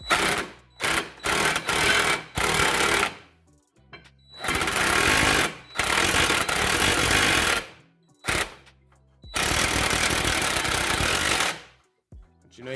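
An impact wrench running in a brake bolt during a vehicle brake upgrade: loud, close bursts of rapid hammering, several short bursts and then longer runs of a few seconds each, separated by silent gaps.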